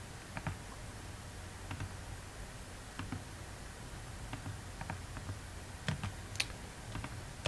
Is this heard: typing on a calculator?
yes